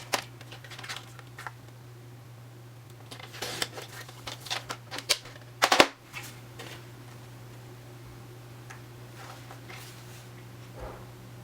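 Paper is cut down to size for a handmade collage album: a cluster of crisp, close snips and rustles in the middle, then scattered faint handling noises over a steady low hum.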